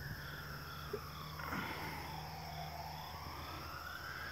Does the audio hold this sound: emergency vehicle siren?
yes